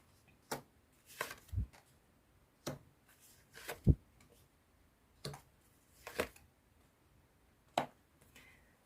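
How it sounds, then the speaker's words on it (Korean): Tarot cards are handled while an advice card is drawn: sharp, crisp snaps and taps come every second or so, eight or nine in all, with quiet pauses between them and no talking. "그럼 마지막으로 조언점 카드 뽑아보도록 할게요."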